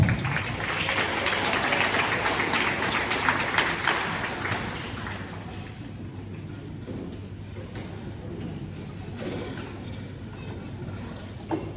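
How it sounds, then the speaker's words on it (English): Audience at a teacher motivation event applauding a guest speaker, a dense, loud wash of clapping that begins strong and gradually thins, with a few scattered claps near the end. "please give a round of applause for Mr. Rico Sharp"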